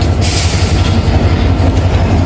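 Ekota Express train pulling out of Santahar railway station in northern Bangladesh, a loud continuous rumble of wheels and carriages with steady low rolling noise close by.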